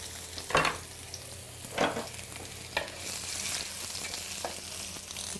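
Garlic sizzles in a hot pan with a steady close hiss, broken by a few louder bursts of stirring and scraping, no talking over it.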